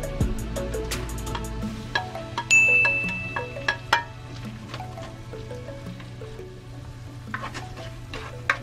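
Onions sautéing in a pan for pork binagoongan, with a steady sizzle of frying under scattered stirring clicks and scrapes from a utensil and a brief sharp metallic ring partway through.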